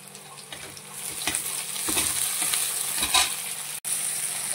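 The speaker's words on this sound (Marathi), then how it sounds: "आपला कांदा टोमॅटो छान तळून झालेला आहे" Onion and tomato frying and being stirred in a pan, with a steady bright sizzle and repeated scraping strokes of the spoon close up, continuous with no talk.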